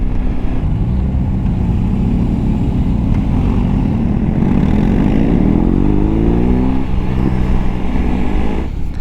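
A BMW R18 B heavy cruiser motorcycle rumbling while ridden on the road, its engine a steady, loud, low drone that rises in pitch as it accelerates, heard close with wind noise and no talking.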